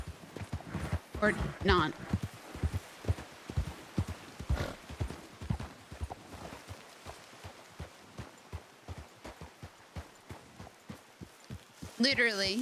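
Rhythmic clip-clop of horse hooves in a Wild West video game, steady near footfalls throughout under a streamer's quiet speech, with a brief whinny near the end.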